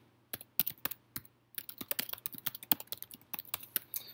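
Quick irregular keystrokes on a computer keyboard, close and clear, typing in short bursts with a brief pause before a denser run of clicks.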